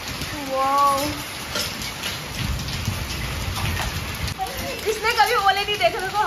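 Heavy summer rain mixed with hail pours down in Dehradun as a loud, steady, hissing downpour, with brief voices speaking near the start and end.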